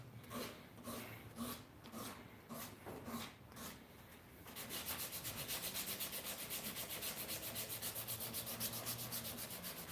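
Wood, likely a knife handle, is sanded by hand with 240 grit sandpaper. A few slow, separate rasping strokes give way to fast, continuous back-and-forth rubbing close to the mic, with no voices.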